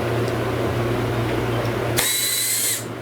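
A cordless drill spins on the tail light screws of a 1979 Buick, a steady close motor whine that shifts to a higher, brighter buzz for about a second before stopping.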